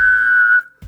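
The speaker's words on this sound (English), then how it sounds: "a vocalized outward whistle" A person gives one vocalized outward whistle, a single clear steady tone held just over half a second before breaking off.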